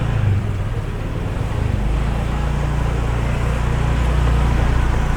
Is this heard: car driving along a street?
yes